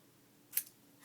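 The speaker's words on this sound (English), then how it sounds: "Okay, I still need to cut off a little more." A single quick snip of scissors cutting paper for a junk journal, one crisp close cut in an otherwise quiet room.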